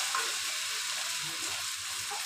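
Green chillies dropped into hot oil give a steady, close bright sizzle of frying that holds evenly throughout with no voices.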